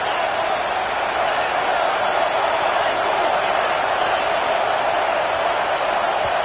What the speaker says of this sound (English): These fans raising the volume on 2nd and goal.